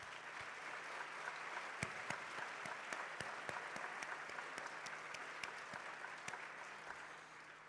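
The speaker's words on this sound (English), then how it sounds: "can we all just have a round of applause?" Festival audience applause at a film screening introduction, a steady, even wash of many hands clapping with a few sharper individual claps standing out, sustained for several seconds at a moderate distance.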